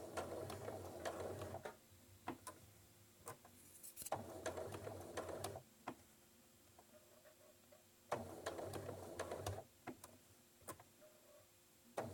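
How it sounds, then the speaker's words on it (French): A sewing machine stitching fabric for a tote bag, running in several bursts of rapid mechanical ticking with short pauses between, close and fairly quiet, no speech. "vous continuez votre couture"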